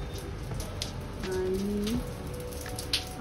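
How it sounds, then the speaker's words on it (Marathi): Steady rain falls outdoors during a Ganesh festival day at home, a continuous soft hiss with a brief dove-like coo in the middle and no talk over it. "पाऊस पडतो बघा."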